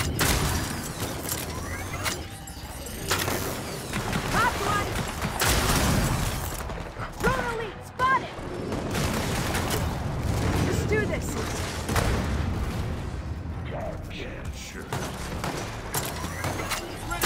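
Rapid gunfire and booming blasts fill a Gears of War 4 co-op firefight on Insane difficulty, dense and continuous, with mechanical clatter and voices talking over the shooting.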